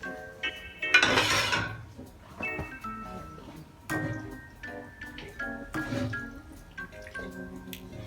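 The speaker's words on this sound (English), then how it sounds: "we're going to transfer the pasta into the sauce" Pasta being moved into sauce in a pan, with wet slaps and plops, clinks of utensils against cookware, and soft scraping in irregular bursts close by.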